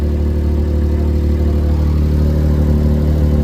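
A Honda Beat PP1 engine held at a steady idle of about 1500 RPM, a constant low droning hum with no revving or talk, close and loud throughout.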